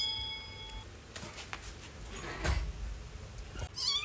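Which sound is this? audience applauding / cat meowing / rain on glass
cat meowing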